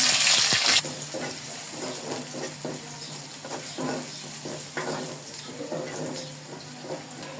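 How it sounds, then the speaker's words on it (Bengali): Chopped onion and green chilli hit hot oil already tempered with cumin, giving a loud initial burst of sizzle that settles into a steady, softer frying crackle with faint stirring scrapes. "এখন পেঁয়াজ মরিচগুলোকে তেলের সঙ্গে হালকা ভেজে নিব।"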